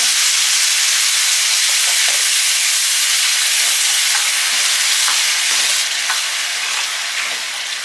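Crushed tomatoes frying in a pan with sautéed onions for a kuzhambu, a loud, dense close sizzle with light stirring scrapes that eases slightly toward the end, no speech.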